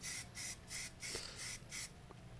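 Rust-Oleum silver spray paint hisses onto Mercedes SL55 AMG car rims in five short, evenly spaced bursts, close and fairly faint.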